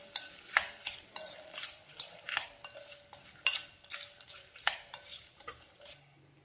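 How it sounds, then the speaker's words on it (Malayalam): A spoon scrapes and clinks repeatedly against a pan while chilli powder is stirred into a hot onion pickle, giving rhythmic, close metallic taps over a faint sizzle, with no talking. "നന്നായിട്ടൊന്ന് മിക്സ് ചെയ്യാം."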